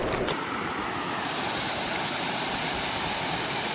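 Mok Pha Waterfall in northern Thailand, a steady rushing roar of falling water heard up close, loud and unbroken throughout with no voices.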